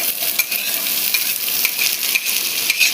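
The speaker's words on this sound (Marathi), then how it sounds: "आता कांदा जात आहे तेलामध्ये." Chopped onion sizzles steadily in hot oil in a pan for tomato sambar, a dense close hiss with faint stirring scrapes and no voices.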